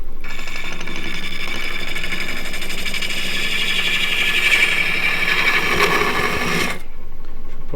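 A gouge cuts wood on a small lathe while turning a large chess pawn, giving a loud continuous whirring, scraping drone with a fluttering texture that rises slightly, then stops abruptly near the end.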